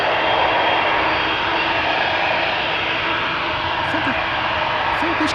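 A KLM Boeing 787-10 Dreamliner in centennial special livery takes off from Schiphol's Polderbaan at full throttle, a loud, close, sustained jet engine roar with a few faint high chirps near the end.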